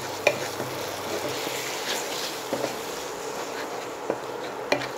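Turmeric, cumin and Kashmiri chilli powder frying in oil while being stirred, a steady soft sizzle with light scraping taps of the spoon throughout, close by and fairly quiet.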